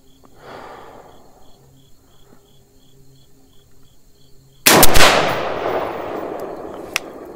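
A single loud rifle shot from a BCA billet upper cracks at an outdoor shooting range and rings out in a decaying tail. Before the shot there is a quiet stretch of steady cricket chirping.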